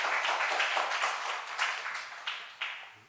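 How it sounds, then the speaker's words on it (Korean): A church congregation claps in a warm burst of applause that thins out toward the end, with a few separate claps standing out. "박수 한번 쳐드릴까요?"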